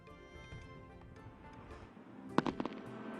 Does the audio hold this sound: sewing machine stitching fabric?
no